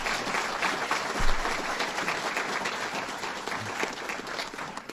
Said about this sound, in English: Another round of applause for President Snyder.